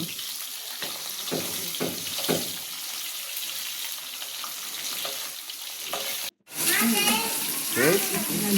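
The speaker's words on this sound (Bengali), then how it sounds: "মাথাটাকে আমি ভালো করে ভেজে নিচ্ছি" Hilsa fish head frying in a pan, with a steady, close sizzle and a few spatula scrapes, briefly cut off before a louder burst of crackling and spitting oil.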